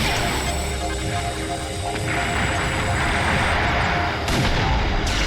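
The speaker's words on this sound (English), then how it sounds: "Enemy missile closing in." Enemy missile attack in the 3DS game Liberation Maiden: a continuous roar of explosive fire and engine-like rumble, loud and dense, with a sharp surge partway through.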